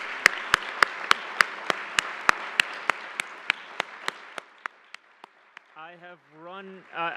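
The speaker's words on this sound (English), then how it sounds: "So a huge round of applause for Ann and Christina" A conference audience gives a round of applause at a closing keynote, heard as a sparse series of sharp, evenly spaced claps that fade out, followed by a brief voiced sound.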